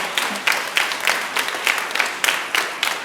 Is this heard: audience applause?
yes